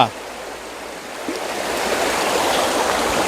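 A rain-swollen forest stream runs fast with floodwater, a dense, steady rushing hiss that swells slightly louder partway through.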